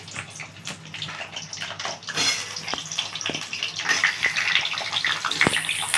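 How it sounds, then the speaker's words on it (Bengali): Oil sizzling and hissing steadily as pointed gourd pieces fry, the crackle growing fuller and louder partway through. "পটলগুলো ভাজা হবে একটু বন্ধু।"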